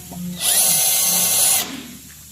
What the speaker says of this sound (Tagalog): binubutasan na para sa connector. Paglalagyan ng screw.